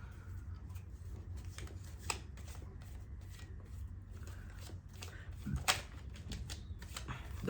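Tarot cards being shuffled and drawn from the deck, a run of quiet, quick riffling and flicking with sharp snaps, close up and without talk.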